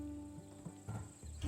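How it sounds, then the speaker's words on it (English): Hooves of a Macedonian warhorse, bred for battle, clip-clop in Assassin's Creed Odyssey: a few soft, slow, evenly spaced thuds, faint and close, over a steady low hum. "Ah, the Macedonian. These are bred for battle, a true warrior's horse."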